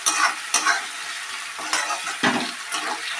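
Green peas are stir-fried into a mushroom masala fry, with a few sharp spatula scrapes and knocks against the pan over a continuous, fairly loud sizzle.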